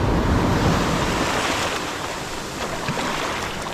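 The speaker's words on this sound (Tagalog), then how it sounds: "Alon." Ocean waves surge and wash steadily, a broad rushing roar with wind buffeting the microphone throughout.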